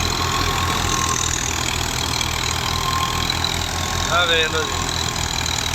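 Al Ghazi tractor, 2005 model, running a wheat thresher: a steady, loud droning engine with a pulsing low rumble throughout, while someone speaks briefly over it.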